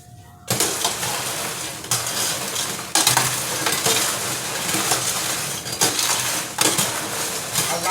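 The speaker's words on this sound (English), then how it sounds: "you'll hear it, the sound of your popcorn change in this cooling rack" Candied popcorn stirred and cooling in a cooling rack gives off a continuous dry crackle and rustle with periodic louder scraping surges, close and fairly quiet with no talk.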